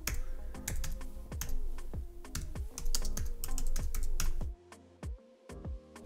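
Typing on a computer keyboard: a steady run of close, crisp key clicks at an even pace, thinning to a few isolated taps near the end.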